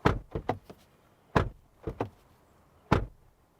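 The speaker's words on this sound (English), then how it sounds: "this is what the door sounds like." A 2024 Kia EV9's car door is shut several times, each a solid thud with a short latch click, separated by brief pauses.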